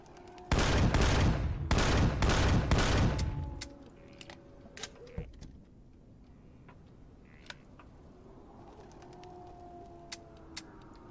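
Gunfire in the sci-fi survival game Empyrion: Galactic Survival: a loud burst of rapid automatic shots for about three seconds, then scattered single clicks and faint game sounds.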